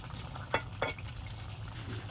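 Fish curry bubbling in a pan with fried fish added, a low soft simmer broken by two brief stirring scrapes, quiet and close.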